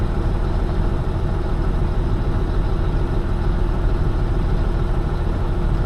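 Truck engine idling steadily after an oil change to circulate fresh oil, a loud continuous low rumble with no variation and no talk.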